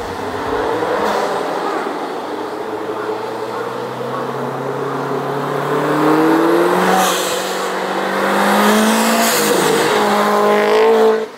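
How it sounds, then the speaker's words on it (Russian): Subaru Forester SG5 with a single large turbo, engine straining as the wheels spin and scrabble under hard acceleration, the revs climbing in long rising sweeps with a loud, close drone and no talk. "Буксуем! Прям тяжело едет, а потом вот этот пинок и капец."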